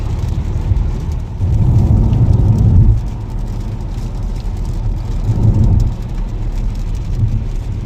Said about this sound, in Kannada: ತುಂಬ ಜೋರು ಮಳೆ ಬರ್ತಾ ಇದೆ